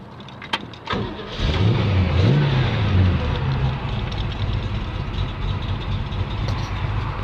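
A 1955 Chevrolet 210 engine cranks, catches with a roar, then revs briefly before settling into a loud, steady rumbling idle close by.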